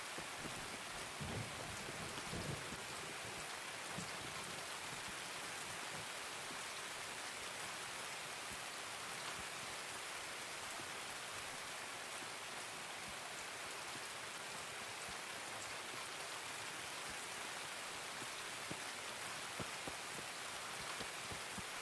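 Steady rain in the Escape from Tarkov video game, a constant broadband hiss of drops on surfaces with a few faint low rumbles, filling the whole stretch with no talk over it.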